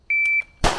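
An electronic shot-timer buzzer gives a sharp, steady tone lasting about a third of a second at a shooting standards drill, followed right after by a loud single gunshot fired from low ready.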